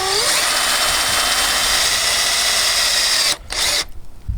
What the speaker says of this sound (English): When you drill your hole, use a piece of wood to back it.